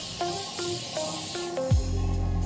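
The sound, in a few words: spraying oil spray on hair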